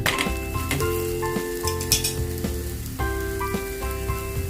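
Red pumpkin thalipith flatbread frying in oil on a pan, a steady close sizzle joined by metallic clinks and taps of a utensil against the pan.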